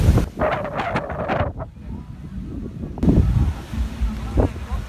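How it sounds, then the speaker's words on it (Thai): Strong gusting wind outdoors at a hot spring park in Ranong, Thailand, blowing as broadband rushing noise across the mic, with someone talking over it in the first seconds. "โอ้ลมดีมาก"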